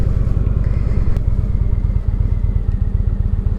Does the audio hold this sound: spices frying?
no